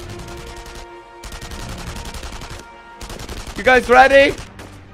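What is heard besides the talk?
gunfire in video game Enemy Front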